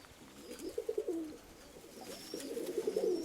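Pigeons give close, soft repeated coos in two rhythmic bursts against quiet background noise.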